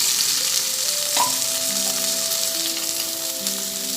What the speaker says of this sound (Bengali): টমেটোটা হালকা নাড়াচাড়া করতে করতে